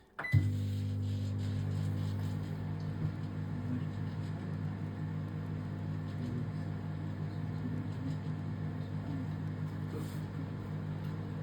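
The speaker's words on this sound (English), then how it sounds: "Today I'm going to do it in the microwave." A microwave oven starts up and runs while heating fried rice, a door clunk or beep followed by a steady, low electrical hum with a constant drone that continues unchanged to the end.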